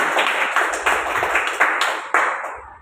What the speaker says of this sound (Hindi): आप लोग कलर को देख के एक बार जोरदार ताली दीजिए।